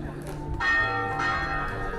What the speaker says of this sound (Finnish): nyt rupes kellot soimaan